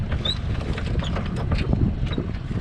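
Sailboat sailing at night on the Mediterranean Sea with the genoa down, moving slowly off the wind: a steady low rumble of wind and water with faint creaks of rigging and mechanisms, continuous throughout.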